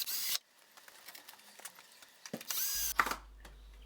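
A power drill drives screws into a pallet workbench frame with two short whirring bursts, one at the start and one near the end, close and moderately loud, separated by quiet handling clicks.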